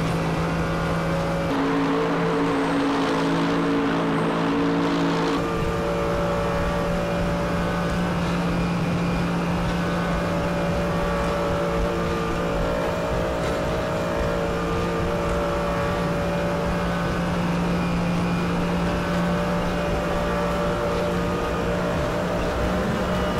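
GT3 race car engine in the RaceRoom racing game, a loud continuous drone held at high revs for over twenty seconds, with a shift in tone early on and steady harmonic whine throughout, no talking.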